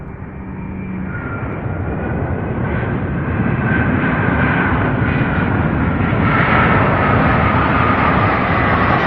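An MD-11 aircraft landing at Louisville airport, a loud, steady jet roar that builds slightly and holds for several seconds, with a broad engine rumble and a faint whine above it.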